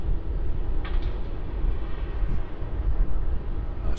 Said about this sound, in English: Gotta love the reverse thrusters on that 717. Slowing down there on 34. That's going to vacate and taxi across to Terminal 1